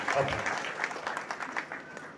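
A congregation at a church healing and testimony gathering claps in a burst of uneven applause that fades and flutters over a couple of seconds, with some voices mixed in.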